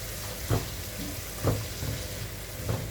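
Diced Chinese sausage and rice stir-fry sizzles steadily in a hot pan, with a few soft scraping strokes of a utensil stirring at regular intervals.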